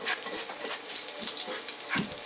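Pieces browning and crisping in a cast iron skillet for a chicken carbonara meatloaf: steady bright sizzling and crackling of frying, close and fairly loud, with small pops throughout.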